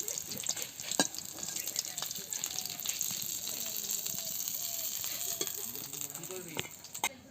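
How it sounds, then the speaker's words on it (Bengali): Rohu fish pieces frying in a pan of hot oil, giving a steady, close sizzle throughout with faint scraping and clinks of a utensil lifting the fish. "মাছগুলো খুব ভালো করে ভেজে নিয়েছি। এবার মাছটা তুলে নিচ্ছি।"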